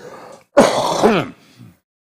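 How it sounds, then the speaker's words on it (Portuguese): A single loud, rough throat-clearing cough bursts out after a brief pause, close and harsh, followed by a faint low breath. "eu vou tossir, desculpe"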